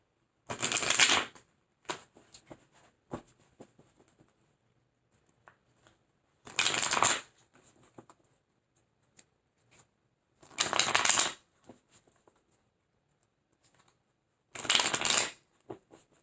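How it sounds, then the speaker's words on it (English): Tarot cards are shuffled in four separate bursts of crisp riffling, each lasting about a second, with long quiet gaps and faint handling rustles between them. "Let's get some cards of clarification for you."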